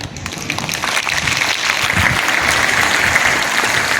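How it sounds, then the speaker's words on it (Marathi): Students and audience at a school event at Sharada Vidya Mandir clap together in sustained, dense applause, loud and continuous from start to finish. "आपण हात वर करून टाळ्या वाजूया"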